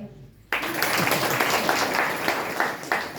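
An audience claps together at a gathering, a dense burst of applause starting abruptly and continuing steadily for a few seconds, with a voice briefly audible beneath it.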